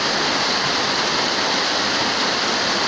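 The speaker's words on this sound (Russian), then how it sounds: "Водопад." A waterfall roars as a dense, constant rush of falling water, loud and close, with an unbroken hiss that holds steady throughout and no other sounds on top.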